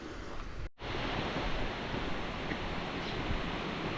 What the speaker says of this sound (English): I can hear the water rushing down there